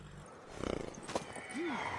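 A mare in The Witcher Wild Hunt snorts and gives a short whinny, a brief rising-and-falling neigh near the end following some soft hoof and breath noises, close and moderately quiet.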